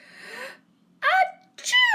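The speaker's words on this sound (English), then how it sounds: "What if pigs make me sneeze? Achoo!" A cartoon-style sneeze from a child character, with a short vocal wind-up followed by two sharp, rising-and-falling sneeze bursts separated by brief pauses, loud and close.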